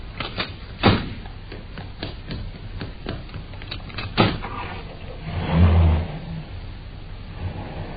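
A car's engine idles then pulls away as the vehicle drives off, with door thuds and clunks early on and a low rumble swelling briefly toward the end.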